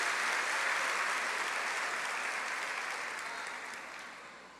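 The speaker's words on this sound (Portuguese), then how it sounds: "Pode aplaudir ao Senhor." Church congregation clapping during a worship service, a broad, even wash of applause that is fairly faint and fades gradually toward the end.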